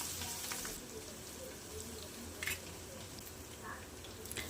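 Crushed garlic, chilies and asafoetida sautéing in hot oil in a pan, a steady soft sizzle running throughout with faint stirring scrapes and a few brief clinks.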